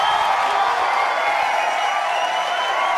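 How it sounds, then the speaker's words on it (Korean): A large crowd cheers and roars after Lee Sedol wins the fourth game of his Go match, a dense, steady wall of distant voices with no single call standing out. "전 세계가 환호했습니다."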